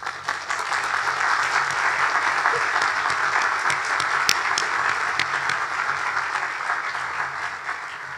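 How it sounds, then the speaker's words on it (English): Doctoral graduation ceremony audience applauding, a dense, sustained wash of many hands clapping at steady volume from start to finish. "let us give each other a round of well-deserved applause."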